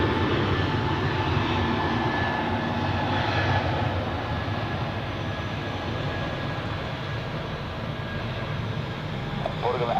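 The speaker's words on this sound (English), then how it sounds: "Next up on the runway is the Swiss C Series or A220" A Swiss Airbus A220 on the runway at Zurich Airport gives a continuous broad jet engine roar that stays loud and steady throughout, heard from a distance with faint background sounds.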